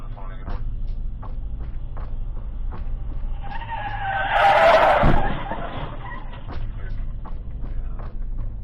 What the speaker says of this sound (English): Watch as this driver is ejected after crashing into stopped traffic at a red light.